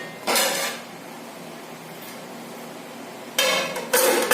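A metal lid set onto a cooking pot while making mutton biryani, with short clanking contacts, one near the start and two more close together at the end, crisp and close against a quiet room.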